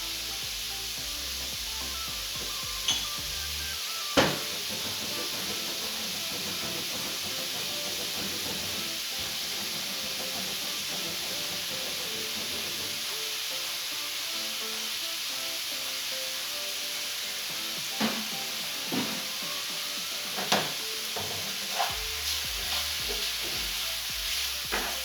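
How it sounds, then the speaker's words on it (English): Chicken and chorizo frying in a pan, giving a loud continuous sizzle and hiss with occasional sharp knocks and clatters as the pieces are tossed and stirred. "My chicken and chorizo, a little toss about in the pan."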